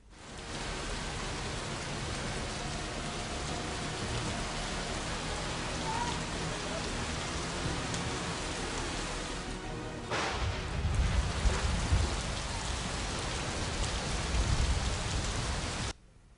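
Heavy monsoon downpour in Kerala, a dense, unbroken roar of rain on surfaces that swells louder in the second half with low rumbling thumps.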